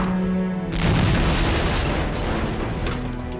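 A tank cannon fires in the strategy game Panzer Tactics HD, a single loud, close boom that bursts in abruptly and rolls out into a long rumbling decay.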